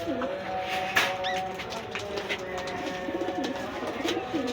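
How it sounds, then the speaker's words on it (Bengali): Pakistani pigeons coo and rustle in a shop, with soft repeated coos and wing movement close by over a busy background hum. "কবুতর অনেক আছে, সিঙ্গেল কবুতর।"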